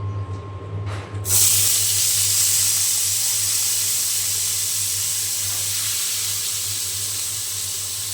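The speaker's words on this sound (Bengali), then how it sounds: "এই তেলের মধ্যে আমি বেগুন ভাজির এই তেলের মধ্যে আমি দিয়ে দেবো আলু" Potatoes drop into hot oil left over from frying eggplant and start a loud, steady sizzle. It begins with a sudden surge and then holds as a constant close hiss, with no talking.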